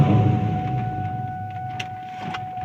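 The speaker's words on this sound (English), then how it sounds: "Now start the car and let it idle for a few minutes or until it runs out of fuel." A Ford Mustang's engine idles steadily close by with a constant hum, and a few faint clicks and rattles come through near the end.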